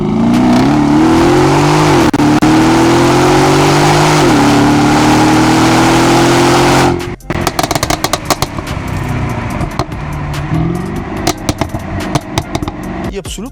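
A 2014 Mercedes S500 coupe with a twin-turbo AMG-generation engine rated at 530 hp revs loudly and steadily at close range, pitch climbing in stages, then drops to a lower, choppier idle with blips and some talk.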